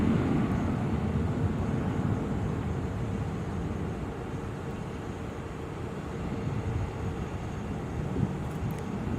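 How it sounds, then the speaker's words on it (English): A Southwest jet airliner takes off at Sky Harbor Airport, a steady broad engine roar that holds loud and constant throughout, heard from some distance with no voices. "We have another Southwest taking off."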